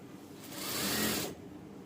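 A sewing machine stitches a padded princess-cut blouse in one short steady run of about a second, rising and falling, fairly quiet against a low room hum.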